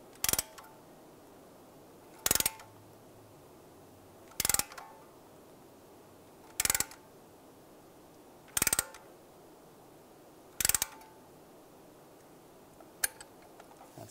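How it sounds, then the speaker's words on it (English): A caliper compressing tool works on a front brake caliper of a 2013-2016 Dodge Dart, making sharp single clicks at a slow, even pace of about one every two seconds over quiet background, with no speech. "Now using a caliper compressing tool, we're gonna compress the caliper."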